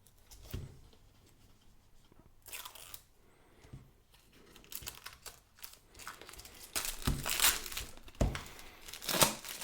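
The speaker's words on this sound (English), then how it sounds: "let's open this plastic package" A plastic package around a 37-in-1 mini electric screwdriver set is crinkled and torn open close to the microphone, with quiet handling at first and louder crackling and ripping bursts toward the end.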